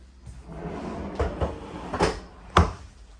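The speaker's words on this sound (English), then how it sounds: "right under here, you have a silverware drawer, super convenient" A silverware drawer in a Brinkley Model Z 2900 RV is slid open and shut, giving several close wooden knocks and rattling slides, the last thud the sharpest, alone in a quiet interior.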